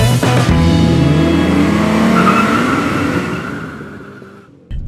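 A BMW M440i in Sport Plus mode accelerates hard on a track in a 0-100 run, the engine loud and close with rising revs and gear changes, then fading toward the end of the burst.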